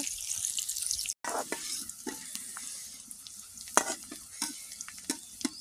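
Onions frying until browned in a pan for a village-style big fish and sweet pumpkin dish, a soft steady sizzle with scattered stirring clicks and a brief silent break near the start.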